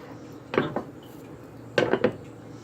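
A plate is set over a square cooking pan, producing two short ceramic-and-metal clatters about a second apart, close but soft in a quiet kitchen.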